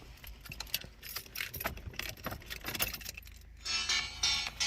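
Keys jangle continuously close by, a busy metallic rattling that shifts in intensity throughout, with no talking over it.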